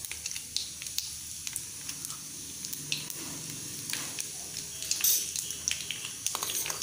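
Asafoetida and dried red chillies sizzle in hot oil for a Khandeshi baingan bharta tempering, a steady close crackling hiss with small pops throughout and no talk.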